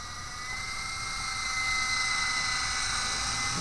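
A Silverlit V-150 RC toy helicopter flies forward, its small electric motor and rotors giving a steady high-pitched whine and whir that holds constant and close, slowly swelling slightly in loudness.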